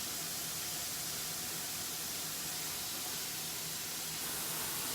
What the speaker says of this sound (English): So now we've got the butter going for the zucchini noodles.